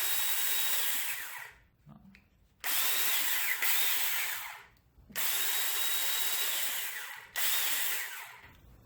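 A Masterforce cordless brushed band saw runs in three loud, steady bursts of motor whine, each started and stopped by the trigger with short silent gaps between, and no talking.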